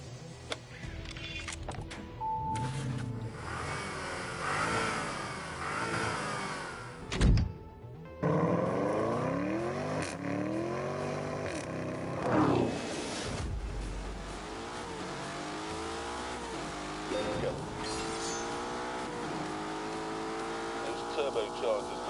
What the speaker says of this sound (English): Turbochargers may be a little bit annoying on the road, but here they're giving me the low-down torque that I need to get up this hill.